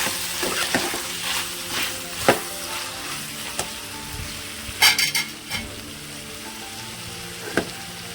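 Tomato curry with chikkudukai bubbles and sizzles in a covered pan while a spoon stirs it, the low frying hiss running throughout and broken by scattered scraping knocks and a cluster of metallic clinks near the middle.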